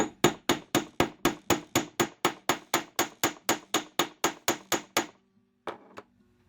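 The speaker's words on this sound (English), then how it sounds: "And I'm going to hammer." Rapid, even hammer blows on wire to texture a squiggle shape, about seventeen close, loud metallic strikes in a steady rhythm, then a pause and a couple of softer taps.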